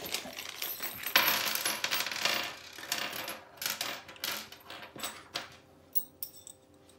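Small metal Allen keys rattling inside a little package from a manual wire stripper box, bright jangling clinks in irregular bursts, loud at first and then tapering into sparse separate taps.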